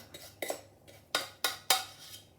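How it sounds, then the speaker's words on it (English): Mashed potato scraped out of a container with a utensil: a few sharp scraping and clinking strokes, close and fairly quiet, spaced irregularly with brief pauses between them. "All my mashed potato is coming out."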